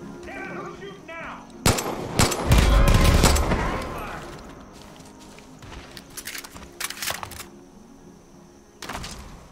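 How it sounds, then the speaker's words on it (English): Gunfire rings out outdoors: a sharp crack, then a loud cluster of shots with a heavy low rumble, followed by scattered fainter pops and a final crack toward the end. "Dad, who's shooting now?"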